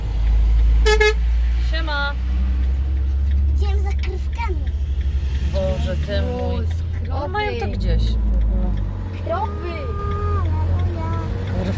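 A car horn toots briefly on a road in northeastern Turkey over a steady engine hum. Voices chatter and talk throughout inside the vehicle.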